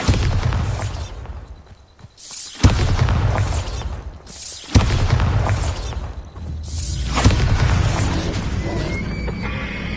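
Bombarda spell blasts going off in Hogwarts Legacy, several loud booming bursts separated by short lulls, with rumbling game sounds and a horse-like whinny mixed in.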